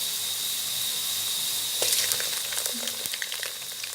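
Onions fry to light brown in a pan, a continuous hissing sizzle with scattered small crackles and scrapes of stirring in the second half.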